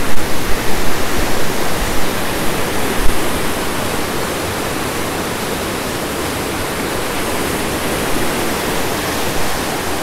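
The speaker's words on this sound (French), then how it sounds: "Pour apprécier le son du courant, rien de mieux que de se mettre sur le pont, de fermer les yeux et d'écouter l'eau." Steady, loud rush of a stream flowing beneath a bridge at a Japanese hot spring inn, a continuous broadband wash of water with no voices.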